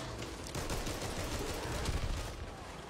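Rapid, continuous gunfire in the zombie shooter Back 4 Blood, a rattling burst of automatic shots heard at moderate volume with no talk over it.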